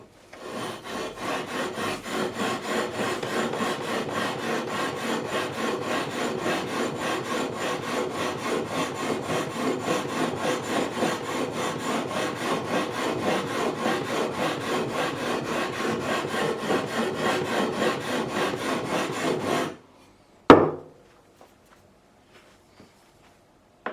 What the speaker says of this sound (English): I'm just going to take a flat file, just ever so gently just go across